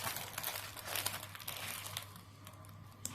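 A 30 by 40 diamond painting canvas is unwrapped from its plastic packaging, close and quiet, with steady crinkling and rustling of plastic and no talking.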